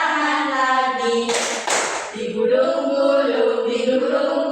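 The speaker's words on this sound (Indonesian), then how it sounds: "tepuk tangan lagi" Children clap their hands in a classroom song game, a short burst of quick claps rising briefly over sustained sung and spoken voices that carry on before and after.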